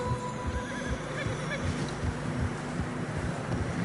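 Horses whinny and snort while struggling through fresh snow on a narrow trail in Red Dead Redemption 2, with a drawn-out neigh amid steady wind noise and muffled hoof movement.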